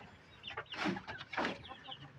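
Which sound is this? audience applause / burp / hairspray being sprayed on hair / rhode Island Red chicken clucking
rhode Island Red chicken clucking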